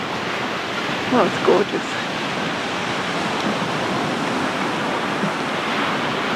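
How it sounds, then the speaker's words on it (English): Atlantic Ocean waves roar continuously beside a seaside walkway, a loud steady hiss of surf that fills the scene while a person briefly speaks over it. "This is the nicest time of the day when the ocean looks calm. It might not sound calm, but it looks calm."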